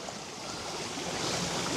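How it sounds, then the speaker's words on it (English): A clear brook flows through a country park at Stalybridge, a steady broadband rushing wash that grows slightly louder over the short stretch, with no voices. "it's brought us to the brook, which is nice and clear"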